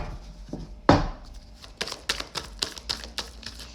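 Tarot cards being cut and shuffled by hand, a sharp snap followed by a quick run of crisp riffling flicks close up, with no talking.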